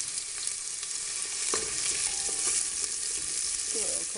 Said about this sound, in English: as soon as it's kind of that temperature where it's starting to sizzle